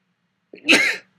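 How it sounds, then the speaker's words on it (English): A single sharp sneeze bursts out after a moment of silence, close and fairly loud, with a quick intake then a breathy, hissing release. "Never sneeze on camera."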